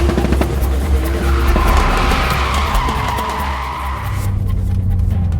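A turbocharged 2JZ-swapped BMW Z3 M Coupe accelerates hard with a loud, steady engine roar as its tires skid and squeal for several seconds, then the noise drops away.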